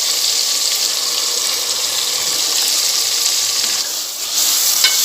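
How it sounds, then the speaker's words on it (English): Garlic paste and mint sizzling in a pan for a mutton nalli bhindi gravy, a steady, loud broadband hiss of frying that runs unbroken, with a brief dip before rising again. "fry well till the raw smell goes"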